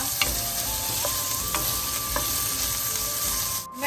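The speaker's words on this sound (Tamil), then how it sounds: "வெங்காயம் பச்சை மிளகாயை சேர்ப்போம் கொஞ்ச நேரம் இது வதங்கட்டும் நல்லா" Onion and green chilli sautéing in a pan for millet fried rice, a continuous close sizzle with a few sharp clicks of a spatula against the pan, fairly loud and steady throughout.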